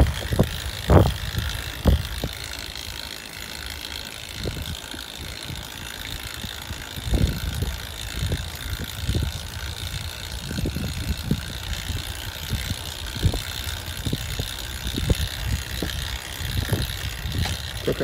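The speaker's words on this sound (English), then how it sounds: "the wind is picking up, as you can probably hear very clearly in the background here" Wind buffets a microphone as a cyclist pedals a bike with a 20-inch-wheel trailer at about 15 mph into a headwind between Woods Hole and Falmouth, giving steady rushing noise with irregular low gusty thumps throughout and no talking.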